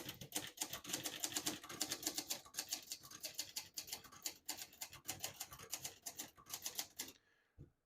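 A 1962 Hermes 3000 manual portable typewriter clacks away in rapid, fairly even keystrokes for several seconds, then stops abruptly with a final soft thunk.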